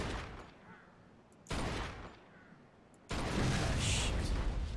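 Gunfire in a video game, loud continuous shooting in a few sustained bursts that swell sharply in intensity, with no talk over it.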